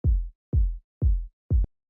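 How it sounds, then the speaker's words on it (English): Four deep, punchy electronic kick drums hit alone at an even steady pulse, each with a booming low thump that decays quickly, dry and unprocessed. "finally, we just had this kick here, which sounds like this"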